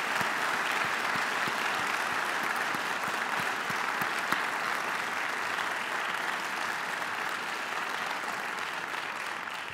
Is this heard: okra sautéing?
no